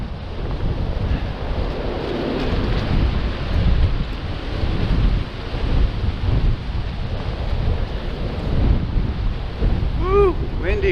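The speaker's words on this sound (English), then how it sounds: "Windy, windy." Strong wind buffets the microphone on a muddy hiking trail along a river at sunset, a continuous low roaring rush with gusts swelling and fading throughout, loud and close.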